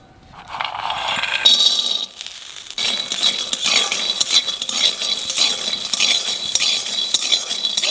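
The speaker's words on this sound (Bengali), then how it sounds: "আগে বাদাম কাটা ভাজিয়ে নেব।" Chopped nuts fry in a pan with a bright, continuous sizzle, while a utensil stirs and scrapes against the metal in repeated strokes; after a brief clatter and a short pause, the frying resumes at close range.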